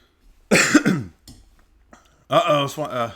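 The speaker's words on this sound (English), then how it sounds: "I coughed." A single sharp cough, close and loud, followed after a short pause by a second burst that sounds more like a throat-clearing hack.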